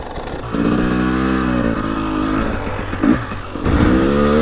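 A KTM EXC 300 TPI two-stroke motorcycle engine revs loud and close, its buzzing note rising and falling through repeated throttle blips with a brief dip and clatter before climbing again.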